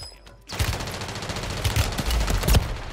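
Rapid gunfire in a video game: dense bursts of shots, loud and close, that begin after a brief quiet moment and carry on steadily.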